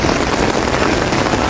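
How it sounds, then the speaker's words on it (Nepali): Rain falls steadily in Kathmandu, a dense, even patter on surfaces that stays loud and close throughout with no talking. "पानी पर्नु थाल्यो"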